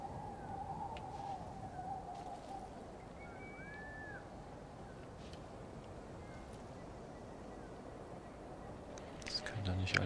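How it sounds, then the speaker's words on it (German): Faint bird calls chirp and whistle in Metal Gear Survive, scattered thinly over a steady wash of wind-like ambient noise. The calls stay distant and low in level. "Ich höre doch Vögel."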